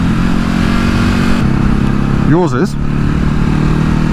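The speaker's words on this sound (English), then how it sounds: "I've just been complimented on the sound of my bike." A Ducati Hypermotard 950 SP engine on its stock exhaust idles with a steady, fairly quiet rumble while a person briefly speaks nearby.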